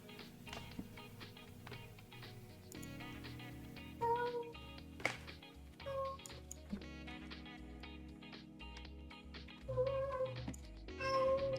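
Bandit the house cat meows several times, quietly and at irregular moments, while soft tapping sounds like typing carry on in the background.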